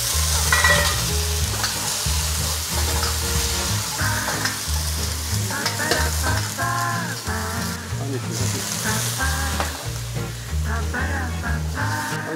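Shiitake mushrooms stir-fry with ginger and garlic in a hot wok, sizzling continuously with repeated scraping and tossing strokes close by, and a voice occasionally speaks over it.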